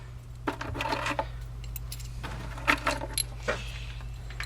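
Three metal bolts from a 1997 Land Rover Defender 90 transmission being handled, producing several light clinks and jangles in scattered bursts over a low steady background hum, close by.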